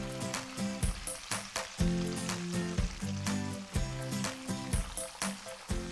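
Breaded cheese pieces fry in hot oil over medium heat, a steady crackling sizzle with small pops and bubbling close up, along with occasional clinks and shifts of a utensil in the pan.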